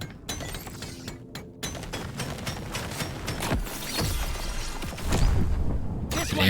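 A plasma burster fired by a Demolitionist Engineer in Deep Rock Galactic: Survivor on hazard 5, crackling and shattering in dense overlapping blasts and explosions that build louder toward the end, with no talking.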